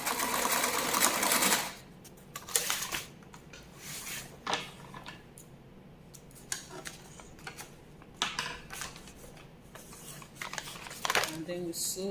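A sewing machine stitches a kaftan gown in short runs of rapid, steady whirring. Quick starts and stops and light handling sounds fall between the runs, and there is some quiet talking.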